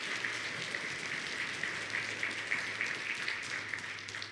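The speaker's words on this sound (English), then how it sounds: "If you appreciate your pastor, would you give him a round of applause this morning?" A church congregation on a Sunday morning applauds their pastor, a steady wash of many hands clapping at a distance, even and sustained throughout without pause, with no talking heard over it.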